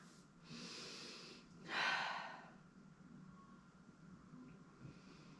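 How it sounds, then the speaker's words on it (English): Slow, audible breaths while resting in a Pilates position with knees together and head on the hands: a soft inhale, then a louder, fuller exhale near the mic, faint room quiet between. "Slow and steady breathing here."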